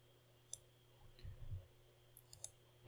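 A computer mouse clicking and dragging, faint sharp clicks at intervals with a soft low rumble of movement between them over a quiet electrical hum.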